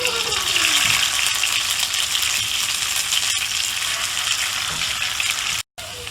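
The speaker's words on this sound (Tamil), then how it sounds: "இப்போ நம்ம தேங்காய் எண்ணெயில் ஃப்ரை பண்ணி எடுப்போம்" Sardines frying in coconut oil for a green pepper fish fry give a loud, steady hiss and crackle of sizzling oil, close up, with a brief dropout near the end and no talk.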